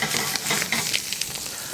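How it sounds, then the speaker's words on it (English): Meat searing in extra virgin olive oil in a hot pan, a loud close sizzle with crackling spits, brief and continuous with no talk. "So I'm just going to sear it out till it gets nice and brown."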